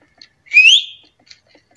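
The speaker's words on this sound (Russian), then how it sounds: "вот так буду просто свистеть" A person whistles once in the horror game Apeirophobia, a single short rising whistle standing alone against near silence with faint clicks around it.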